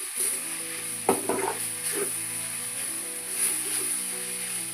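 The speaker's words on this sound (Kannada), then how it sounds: "ಹಿಂಗೆ ಒಂದು ಕೈ ಹಚ್ಕೊಂಡು 2 ನಿಮಿಷ ಫ್ರೈ ಮಾಡ್ಕೊಂಡು ನೋಡಿರಿ." Potato samosa filling frying in oil in a pan: a steady close sizzle with occasional stirring scrapes, over faint tonal background sounds.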